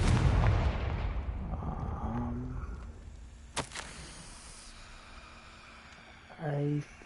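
A Confringo fire spell goes off in a Harry Potter video game with a loud, broad blast at the start that fades into a rumbling tail, followed by a brief sharp crack and later tonal magical chimes.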